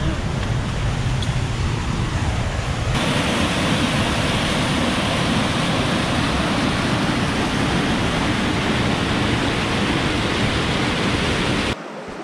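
A high, swollen river rushes through Lydford Gorge in Dartmoor National Park, a loud, close, unbroken roar of churning water that fills the scene and cuts off abruptly near the end.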